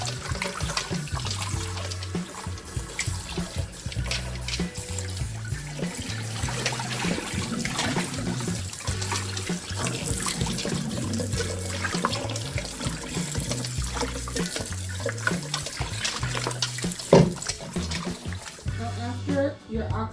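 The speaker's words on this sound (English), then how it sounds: "once you pour it out, until the water is clear" Tap water running into a kitchen sink while oxtails are rinsed, a steady splashing flow throughout, with a voice talking over it and low music in the background.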